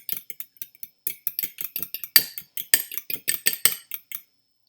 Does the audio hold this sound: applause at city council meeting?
no